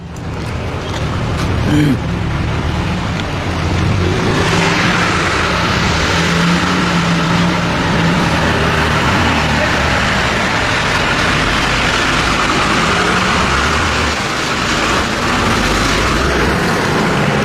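Trucks driving along the road to the Thivim project site, heavy vehicle engines and tyre roar rising and passing nearby, loud and continuous with a brief knock early on and no talk.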